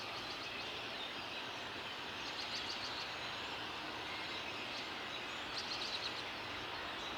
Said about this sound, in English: There's like tons and tons of birds way up there in neighbors' trees.